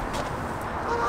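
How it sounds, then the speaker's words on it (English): Geese honking loudly and repeatedly at a carp fishing lake, close by, with overlapping calls filling the short stretch without pause. "I'm being interrupted by the birds at the moment."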